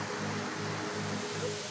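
Steady rushing roar of water at the foot of a waterfall in Senegal, a continuous broadband wash heard close with no voices or other sounds.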